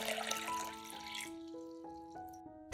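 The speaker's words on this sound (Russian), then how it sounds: "Берем кастрюлю из расчета на 3 литра воды и наливаем в нее 2 литра воды" Two liters of water poured into a three-liter cooking pot, a close, faint filling sound whose pitch rises in steps as the pot fills.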